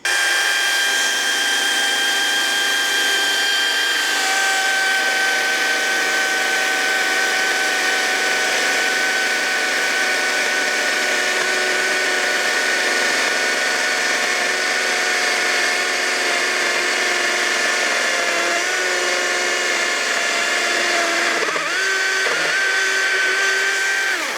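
An EGO CS1200E electric chainsaw runs steadily with a loud, high motor whine and slight pitch shifts as it cuts, without pause.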